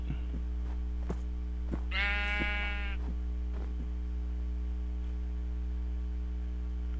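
A single sheep bleats once in Minecraft, a wavering game sound effect of about a second over a steady low hum, with a few soft clicks around it.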